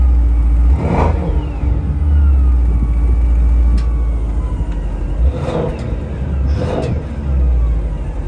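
2024 Mercedes-AMG S63 E Performance Edition 1 at full throttle, a loud deep engine roar with rising surges and gear-change swells as it accelerates, heard up close.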